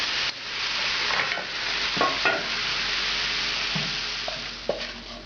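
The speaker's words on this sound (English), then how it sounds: "Now I'm going to add the sherry wine and pull them off the heat." Sherry wine poured into a hot pan of browned chicken: a loud, steady sizzle and hiss close up, with a few stirring scrapes and clinks, and no voices.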